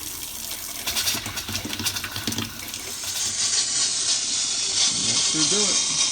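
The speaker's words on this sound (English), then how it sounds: "let the air push all the water out" Air forced through the water lines of a Grey Wolf 26DBH travel trailer during winterizing, a steady close hiss and spray that builds and holds, with talk early on and gurgling sputters near the end.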